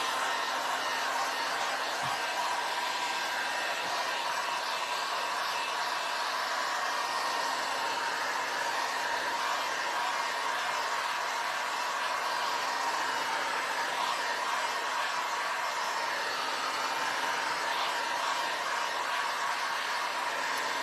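A hair dryer blows steadily and close by for the whole stretch, drying paint on a rustic patriotic craft sifter, a constant even whoosh with no talking over it.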